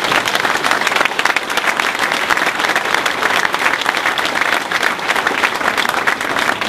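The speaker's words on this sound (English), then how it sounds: "Give him a round of applause." A crowd at a political activist gathering in New Hampshire breaks into loud, dense applause for an introduced guest, many hands clapping close and continuously without a break.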